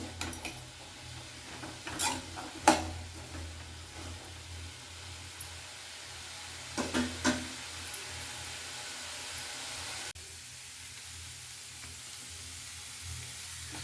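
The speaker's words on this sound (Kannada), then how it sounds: "ಕಾಳು ಒಗ್ಗರಣೆ ಒಳಗಡೆ ಬಿಸಿ ಆಗಬೇಕು" Chickpeas sizzle steadily in a hot spice tempering for usli, with a few sharp scraping stirs from a utensil against the pan.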